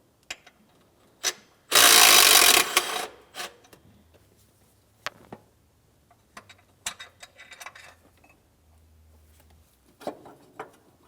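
A 15mm mounting bolt comes off a power steering pump bracket on a 2007-2014 GMC Sierra 2500 HD, with one loud two-second burst of an impact or ratchet tool followed by sparse clicks and metallic taps.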